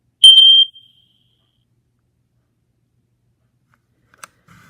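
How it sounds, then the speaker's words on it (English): A fireX FADC smoke alarm gives one short, sharp high-pitched chirp, followed by near silence and a faint click toward the end. "the smoke alarm has been chirping like crazy"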